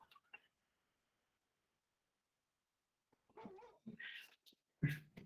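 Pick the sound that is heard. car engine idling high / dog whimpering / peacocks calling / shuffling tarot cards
dog whimpering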